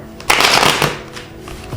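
A deck of cards riffled and shuffled by hand during an Orisha card reading: one brisk, rustling burst of papery flutter, close and fairly loud, fading into softer handling noises.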